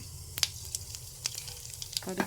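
Mustard seeds, cinnamon and fennel crackle in hot oil, faint sparse pops and sizzles with a few sharper spits over a low steady hiss, ending in a brief louder burst.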